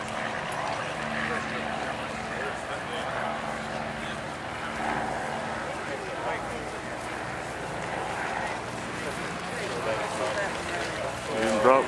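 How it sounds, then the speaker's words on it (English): Cessna Caravan turboprop at the Sun and Fun Air Show in Lakeland, Florida, a steady engine and propeller drone with busy crowd noise and people talking nearby throughout. "It's a Cessna Caravan."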